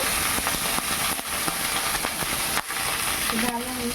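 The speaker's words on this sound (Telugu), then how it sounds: "ఇలాగా నూనెలో మనం ఫ్రై చేసుకోవాలి" Brinjal (eggplant) frying in oil for Hyderabadi bagara baingan: a steady, close hiss and sizzle with small clinks of stirring, while someone talks over it.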